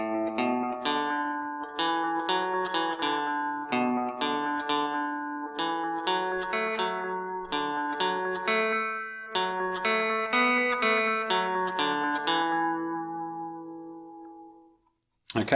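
Electric guitar plays a melody, a steady run of clean picked notes with ringing sustain, close and alone, ending on a held note that fades out.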